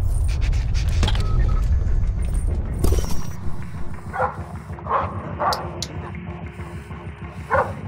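A dog in the stealth video game Splinter Cell Blacklist yaps and whimpers in short bursts over steady game ambience and mechanical clatter, growing fainter after the first few seconds.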